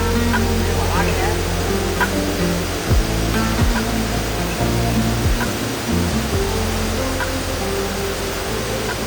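The Mohini Ella (Madanagiri Ella) waterfall pours down in a constant dense rush of water, loud and close, with a faint voice briefly audible beneath it.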